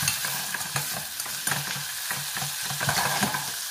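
Four small shrimp sizzle gently in a pan over low heat, a soft, steady frying crackle close by, broken by light stirring clicks of a utensil, with no talking.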